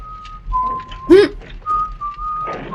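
A person whistles a thin, wavering tune over a low background, with a brief voice-like burst breaking in midway.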